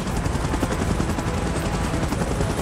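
Helicopter from the PUBG Mobile video game, its dense rotor chop loud and close and running steadily the whole time with no one talking.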